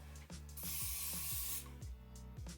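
Hairspray misted onto curled hair styled with an automatic hair curler, a steady broadband hiss running for about a second amid ratcheting clicks from the device.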